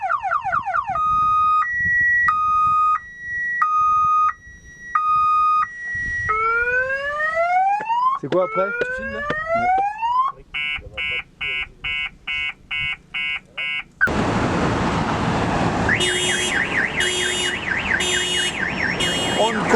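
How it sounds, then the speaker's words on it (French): A new car alarm in Chile rings loud and won't stop, cycling through warbling tones, rising sweeps, rapid pulsed beeps and a harsh siren one after another, with people speaking briefly over it. "On ne comprend pas comment marche ce putain d'alarme."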